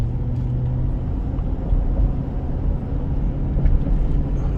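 A 2006 Ford F150 pickup truck on a short test drive, its engine and road rumble a steady low drone from inside the cab, with no talk over it.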